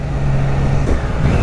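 A Triumph Trident 660 three-cylinder motorcycle engine runs loud and steady with a rising rev, a continuous close-up engine note with no talk.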